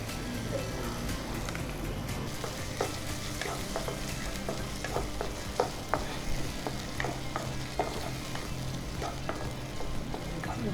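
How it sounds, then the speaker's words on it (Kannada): Tomatoes with salt frying in a pan for capsicum sabzi, a steady close sizzle with occasional scrapes and clinks of a spatula stirring, with no talking. "ಸ್ವಲ್ಪ ಉಪ್ಪು ಹಾಕುವ, ಹಾಗಾದರೆ ಬೇಗ ಅದು ಟೊಮೆಟೊ ಫ್ರೈ ಆಗ್ತದಲ್ಲ."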